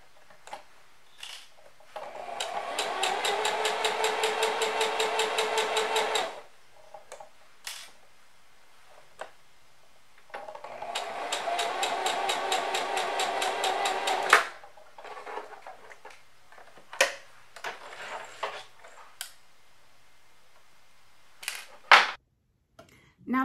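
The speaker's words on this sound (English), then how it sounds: "Now that you have your bodice pieces sewn together" A sewing machine stitches dress bodice pieces in two long, steady whirring runs of rapid needle clatter, separated by pauses and followed by scattered clicks and handling knocks.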